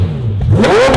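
A Pagani Zonda Barchetta supercar with a 7.3-liter naturally aspirated AMG V12 gives a single short, loud rev, its engine note climbing quickly from a low idle.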